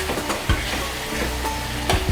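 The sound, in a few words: paste with coriander and mint frying in oil for egg curry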